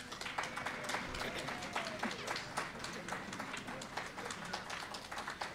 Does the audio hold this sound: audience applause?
yes